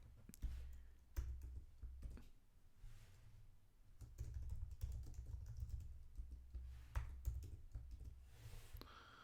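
Code is typed on a computer keyboard in quick, uneven bursts of close, quiet key clicks, with short pauses between runs.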